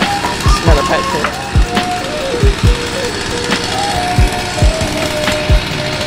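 A petrol chainsaw cuts through the wood of a tree house outdoors, its engine revving and dipping in repeated surges with cutting bursts, loud and close.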